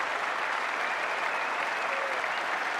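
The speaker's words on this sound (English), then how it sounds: "Applause from his team and from that England balcony." The England team and balcony crowd applaud at a 2005 NatWest one-day cricket final against Australia, a dense, steady roar of clapping that fills the whole moment.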